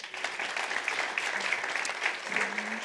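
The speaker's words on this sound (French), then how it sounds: "Merci les enfants, on les applaudit encore." Congregation applauding children at a church service: steady, dense clapping from many people, sustained evenly at moderate loudness throughout, with faint voices underneath.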